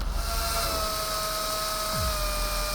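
A high-pitched whining drill in Cyberpunk 2077, a steady mechanical tone with layered harmonics that runs continuously at even loudness, with no talk over it.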